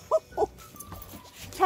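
A Malamute whimpers in short, high, close whines, three distinct cries spaced across under two seconds with quiet pauses between.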